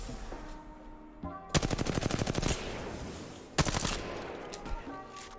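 Automatic fire from an R-301 rifle in a shooter game, two rapid bursts of sharp, loud cracks, a long stream then a shorter one, with quieter game noise between.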